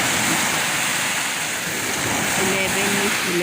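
Loud, steady roar of surf crashing and washing continuously, filling the whole stretch with broadband rushing noise.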